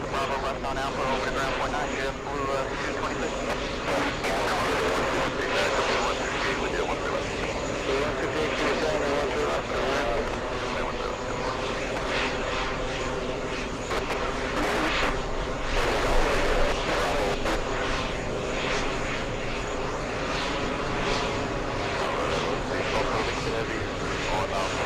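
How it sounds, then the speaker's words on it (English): A Virgin Atlantic airliner inbound from Heathrow roars steadily overhead near TWA Hotel in New York, a broad continuous engine rumble mixed with wind, while people talk over it. "Virgin Atlantic flying in from Heathrow"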